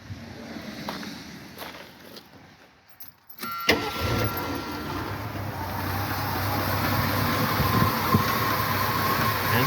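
A car engine starts with a sharp crank, then settles into a steady idle with a faint, rapid ticking from a valve lifter that is growing noisy.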